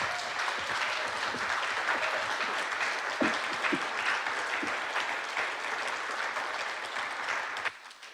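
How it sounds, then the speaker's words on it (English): Dense, sustained applause from an audience at a Tate Modern Lates art talk, many hands clapping together nearby for about eight seconds before cutting off abruptly, with no voices over it. "please let's give them a round of applause"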